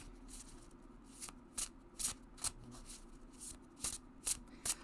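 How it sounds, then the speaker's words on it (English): Oracle cards are shuffled overhand, soft papery riffles and slaps repeating about every half second at close range over a quiet background. "You can do the overhand."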